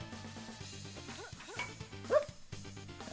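Voice imitating a dog, a single short yelping bark over the busy beeps, shots and chiptune music of the Mercenary Kings video game.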